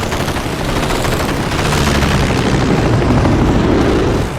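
Fighter planes fire in head-on attacks on a wounded bomber: a loud, dense, unbroken roar of rapid gunfire and engine noise that swells slightly toward the end.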